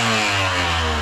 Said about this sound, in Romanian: Aole, uite că vine de motor.